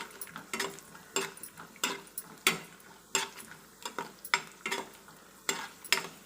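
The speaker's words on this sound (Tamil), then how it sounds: "முந்திரி கொஞ்சம் வறுபட்டதுக்கு அப்புறமா நம்ம எடுத்து வச்சிருக்கிற திராட்சையை இது கூட சேர்த்து வறுத்துக்கலாம்" Cashews and raisins frying in ghee in a pan for rava kesari, a soft sizzle under repeated light scraping and clinking strokes of a spoon against the pan at a fairly regular pace, fairly quiet with no voices.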